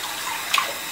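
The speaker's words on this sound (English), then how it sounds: "We're basically going to start with some hot water." Hot water running from a tap for a wet shave, a steady close rushing stream with a brief splashy burst about midway through.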